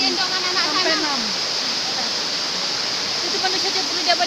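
The first tier of a forest waterfall gives a loud, steady rush of falling water, with faint voices briefly heard under the roar.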